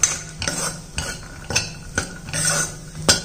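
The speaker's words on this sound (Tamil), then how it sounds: "இது எல்லாத்தையும் ஒரு வதக்கிடுவோம்." Peas, beans and finely chopped carrots being sautéed in a pan, with repeated scraping and stirring strokes of a spoon against the pan over a soft background sizzle, close and fairly loud, no talking.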